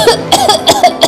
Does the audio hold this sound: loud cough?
yes